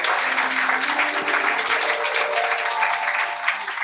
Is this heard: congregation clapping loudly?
yes